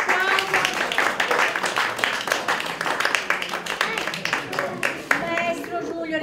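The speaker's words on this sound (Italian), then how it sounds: "Facciamo un bellissimo applauso." An audience claps at an Italian award ceremony where plaques are handed out, the uneven round of hands running for several seconds while a voice carries on over it.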